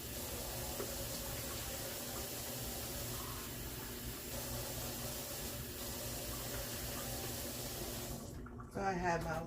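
Warm tap water runs steadily from a kitchen faucet to be measured for bread dough yeast, a continuous close hiss of flowing water that cuts off near the end.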